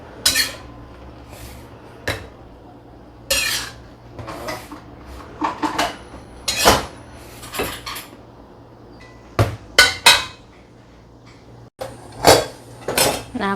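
Plates and dishes clatter as they are set down in a home kitchen during cooking, with a series of sharp ceramic knocks and clinks spread irregularly throughout and no talking.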